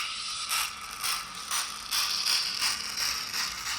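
Hornby A1 model locomotive running on track with coaches in tow: a quiet, regular mechanical clicking and rattle of wheels and gears, repeating about twice a second with a faint whir between clicks.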